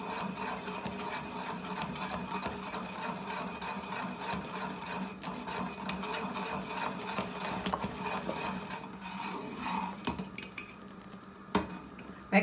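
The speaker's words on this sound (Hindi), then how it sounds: "इस तरीके से गोल गोल चमचा जो है वो घुमाते जाना है" A spoon stirring carrot kheer (gajrela) round and round in a pot, making a continuous low scraping and clinking against the metal, steady and close, ending with a few sharper knocks.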